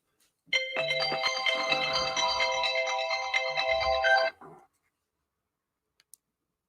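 A phone ringtone plays loudly and close for about four seconds, a bright repeating electronic melody that cuts off abruptly, followed by silence and a couple of faint clicks.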